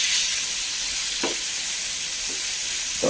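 Chopped tomatoes for fish curry frying in a pan give a loud, steady hiss, broken by a couple of brief stirring scrapes, close up and with no voices.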